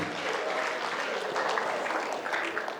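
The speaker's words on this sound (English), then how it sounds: "So all give yourself a round of applause" Guests at a speech-giving occasion applaud, a dense, sustained patter of many clapping hands that fills the room evenly, close and continuous from start to finish.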